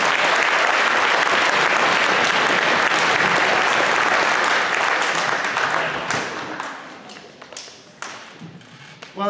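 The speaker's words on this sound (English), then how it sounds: "One more round of applause for Brennan Wills and his jokes." An audience at a school Christmas concert claps steadily and loudly for several seconds, then the applause thins out into scattered claps and taps before fading.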